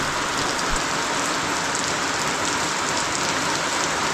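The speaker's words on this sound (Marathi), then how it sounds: "पाऊस जाम पडता रे." Heavy monsoon rain pours down steadily in the evening at a farm during rice sowing season, a loud, dense and continuous hiss with no breaks and no voices.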